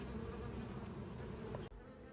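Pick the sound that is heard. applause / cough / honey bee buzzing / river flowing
honey bee buzzing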